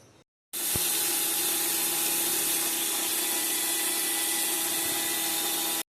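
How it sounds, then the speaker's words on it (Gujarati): An electric mixer grinder dry-grinds samo, barnyard millet, starting with a sudden loud steady whirring roar that runs unbroken for several seconds after a brief quiet lead-in. "હવે આપણે આ મિક્સરની અંદર સાંબો નાખી દઈશું અને કોરો પીસી લેવાનો છે"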